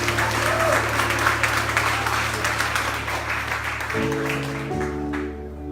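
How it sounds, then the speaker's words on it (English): A church congregation claps and applauds together continuously for praise and worship, with a sustained organ-like tone underneath that shifts pitch near the end. "Let's give the Lord a hand clap for praise and worship this morning."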